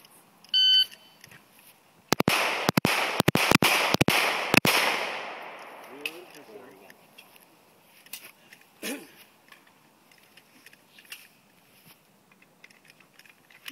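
Pistol gunfire at a USPSA practical shooting match in Mississippi: a rapid string of about eight sharp, loud shots over two and a half seconds, followed by quieter handling noises and faint distant shots.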